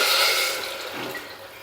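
Water pours from a vessel into a pot of lentils being cooked for fenugreek-leaf dal, a short, steady splashing gush that tapers off.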